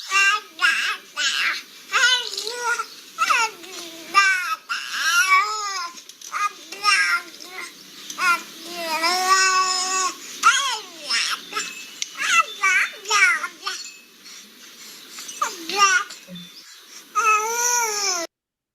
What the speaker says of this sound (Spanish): los bebés, ¿cierto? Cuentan con todo el stock fonético, es decir, con la abundancia de sonidos del balbuceo